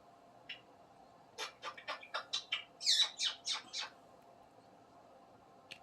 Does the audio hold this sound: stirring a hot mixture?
no